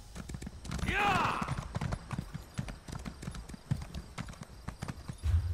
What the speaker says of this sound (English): let's go on the horse